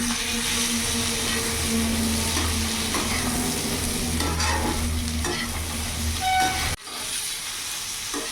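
A chopped tomato fries with a spice paste in a pan for a bitter gourd and potato chorchori. A loud, continuous sizzle carries steady stirring scrapes, then drops abruptly near the end.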